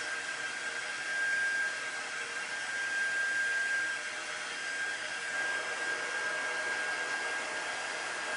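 A hair dryer blows steadily on a chalkboard craft decoration, a loud continuous close whoosh that wavers slightly over several seconds with no talking.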